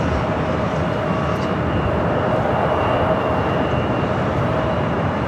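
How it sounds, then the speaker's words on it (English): A Delta Airlines Airbus A321 arriving at Los Angeles International Airport, a loud, steady jet roar held at an even level throughout, with no voices over it. "Next arrival is Delta Airlines flight 673 coming up from Atlanta, Georgia on an A321"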